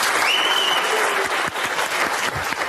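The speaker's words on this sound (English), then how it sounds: "another round of applause for the organizers, the local organizers, and everybody else." Warm audience applause rings out at the close of an academic learning-theory conference, a dense, steady patter of clapping from a room full of people, with a faint voice briefly over it.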